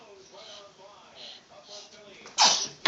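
A single sharp sneeze bursts out loud and close at the end, right after a mother chats with a young child in a car.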